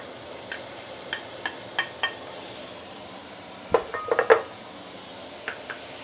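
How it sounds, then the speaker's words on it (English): Ginger, garlic, fresh coriander and fermented bean paste (taucu) being sautéed for a fish stew: a faint steady sizzle runs throughout while a utensil clinks and scrapes against the pan in scattered taps and a brief cluster of louder knocks. "we want to saute our ginger, garlic, or coriander, fresh coriander, and also the Taucu, yeah, fermented bean paste"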